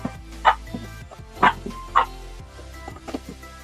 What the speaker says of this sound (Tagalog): Pasensyahan nyo na po yung mga aso.